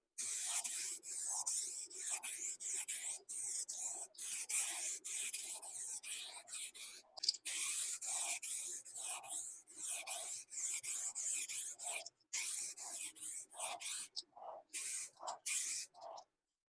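A clear coat is sprayed onto a restored hazy plastic car headlight in a steady run of short, close hissing bursts, each pass separated by brief pauses, with no talking.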